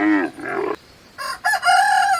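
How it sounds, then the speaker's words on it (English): Rooster crowing in two bursts, a loud near call, a short silent gap, then a second harsher crow with a held, wavering tail. "The female of the chicken is called a hen and the male is called a rooster."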